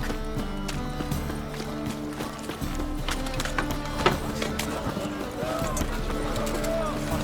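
Horse hooves galloping in The Witcher 3: Wild Hunt, a steady rhythmic clip-clop running under game music and ambience while voices talk over it.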